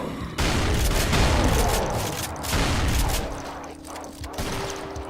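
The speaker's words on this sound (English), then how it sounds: "Hard to beat this shotgun." A shotgun fired repeatedly in a combat video game, with loud close blasts and mechanical clatter in a busy, uneven rhythm.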